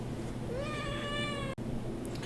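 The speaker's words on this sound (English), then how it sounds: "Apparently my cat wanted to say hi." A domestic cat meows once, a clear rising-then-falling call near the microphone, heard indoors against a low steady hum, followed by a brief sharp click.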